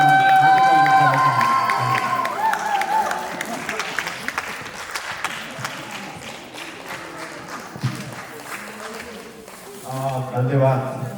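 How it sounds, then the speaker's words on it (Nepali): At a dance competition in Tokyo, an audience applauds to welcome a guest, a former national volleyball player. Brief music gives way to sustained clapping and cheering from a sizeable crowd, with a voice over the PA near the end. "एकचोटि जोरदार तालीले उहाँलाई स्वागत गरिदिनु हार्दिक अनुरोध गर्न चाहन्छु।"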